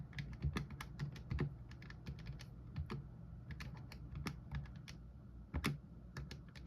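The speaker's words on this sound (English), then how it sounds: "Did I type that in wrong?" Typing on a computer keyboard, quiet irregular bursts of soft key taps close by, with no talking.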